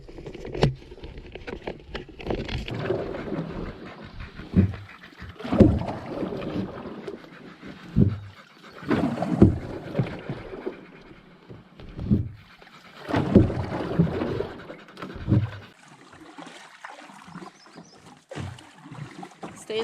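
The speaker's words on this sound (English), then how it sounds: "doesn't look too far to paddle across" A canoe being paddled across Canisbay Lake in Algonquin Provincial Park, with soft, irregular splashes and water swishes coming in uneven strokes under some breezy wind noise, close to the microphone.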